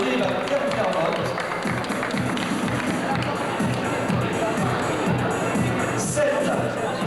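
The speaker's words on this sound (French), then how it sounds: "Sonia, on l'applaudit très fort." Steady applause from a pageant crowd at a 1992 fair beauty contest in Tarbes, a dense, continuous patter of many hands with a murmur of voices and a brief cheer near the end.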